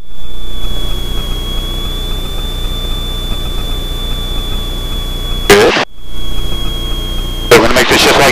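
Engine drone from an Extra 300L aerobatic aircraft, heard from inside the cockpit as the power is brought back toward idle. The drone stays steady and constant, broken by two short, loud bursts of noise near the end.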